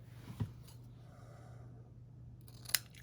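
Scissors trimming a tab for a B6 slim Stalogy planner make a faint snip or two against a quiet room hum, with a soft crisp cut near the end.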